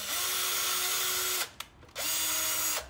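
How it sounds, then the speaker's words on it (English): A power drill bores a small hole into the wooden front of a wren birdhouse, running in two steady, close, loud bursts of whining motor noise separated by a short pause. "Now we are going to drill a small hole here"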